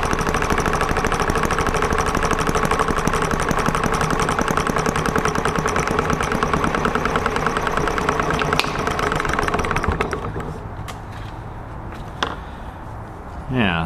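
A Vespa ET8 scooter engine runs in cold weather with its carburetor needle fully closed, a steady buzzing drone that drops to a quieter, rougher idle near the end, with speech over it.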